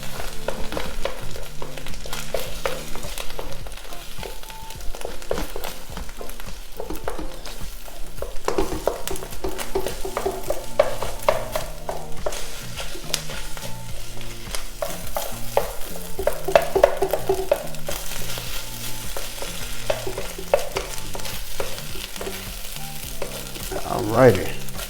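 Shrimp fried rice ingredients sizzle and fry in a hot pan while being stirred and broken up, a steady close crackle with scraping utensil strokes throughout and no talking.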